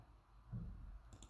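A single computer mouse click while testing an Android app with CardView click listeners, a brief soft tap near the end of a quiet moment.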